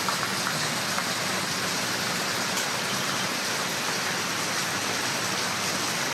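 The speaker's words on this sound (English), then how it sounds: "It's raining like crazy." Heavy rain pours on St. Thomas in the Virgin Islands, a dense, unbroken hiss, loud and constant throughout.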